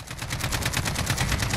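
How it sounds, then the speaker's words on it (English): Rapid bursts of automatic rifle fire from an AK-15 in Call of Duty: Modern Warfare, loud and close, with shots repeating in a steady rhythm throughout. "So you definitely would probably be better off burst firing this at range."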